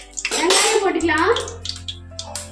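Onions hit hot oil with bay leaf and spices for chicken biryani and set off a steady, hissing sizzle. Someone talks over it throughout.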